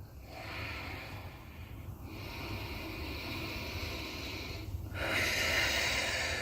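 Deep, slow breaths during a yoga stretch, a steady airy rush with a few sharper snort-like exhales, close and moderately loud against a hissy background, with no talking.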